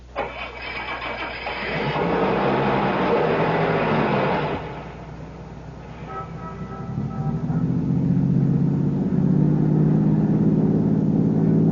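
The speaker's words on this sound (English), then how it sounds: "Start your car, head west of the highway, and keep going till I tell you to stop." A car engine cranks and catches, then settles into a steady running drone as the car pulls away, in a CBS Radio Mystery Theater drama; the starter whine is loud and near, with the engine hum continuing alone.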